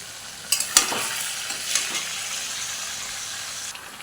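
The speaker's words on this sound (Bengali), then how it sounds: "আদা পেঁয়াজ কাঁচা লঙ্কা রসুন বাটা এখন আমি কড়াইতে তুলে দিচ্ছি।" A paste of ginger, onion, green chilli and garlic hits hot oil in a wok with a sudden sizzling burst and a few spatula clacks, then settles into a steady hiss, close and without talk.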